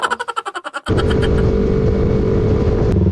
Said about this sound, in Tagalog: Ang traffic dito guys. Pag rush hour.